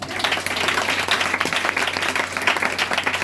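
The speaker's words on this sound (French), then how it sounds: "Acclame-le encore plus cher." Loud, continuous applause from a congregation at a church service, hands clapping densely and steadily with faint voices mixed in.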